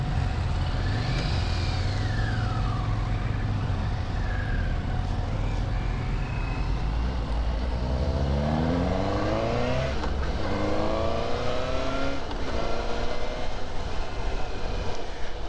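Suzuki GSX-S750 motorcycle engine pulls hard while riding, revving up through repeated rising sweeps in a loud, continuous drone with wind noise.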